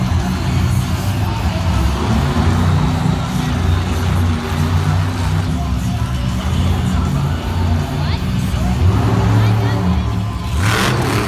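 A monster truck engine revs hard during a Monster Jam freestyle run in a Lincoln, Nebraska arena, a loud steady roar beneath a cheering crowd with commentary talk over it.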